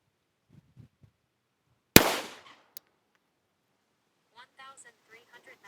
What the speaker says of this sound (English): 5 shots.